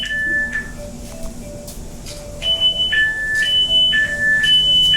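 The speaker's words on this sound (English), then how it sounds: "Playing alarms through the train, playing music through the train." A repeating electronic alarm tone beeps in bursts over the rumble of a Transperth C-series electric train, growing louder partway through.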